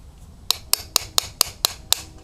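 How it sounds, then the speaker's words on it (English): A hammer strikes a part on a 1983 Yamaha YZ250 motorcycle, eight sharp metallic whacks spaced evenly, crisp and close against a quiet background. "Could give it a couple whacks."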